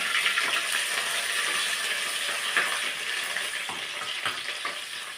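Ginger, green chili and garlic fry in hot oil after mustard seeds have popped, giving a steady close sizzle with faint stirring clinks, no talking.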